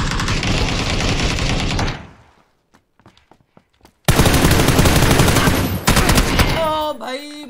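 Automatic gunfire rattles in PUBG on the Karakin map: a loud sustained burst, a short near-silence with a few faint clicks, then another heavy volley of rapid shots close by.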